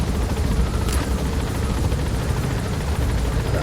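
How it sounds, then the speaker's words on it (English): Helicopter in the video game Metal Gear Solid V: The Phantom Pain, a loud steady rotor roar with dense low rumble filling the whole stretch without pause. "order the helicopter to bring us into the next spot"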